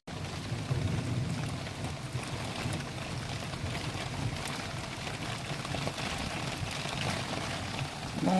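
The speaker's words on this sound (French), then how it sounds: "Bon, l'orage est là, ça y est," Rain from an arriving thunderstorm, a soft, steady wash of falling water that holds evenly throughout, fairly faint and with no voices over it.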